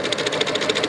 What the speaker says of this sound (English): And now we're going to sew up this side.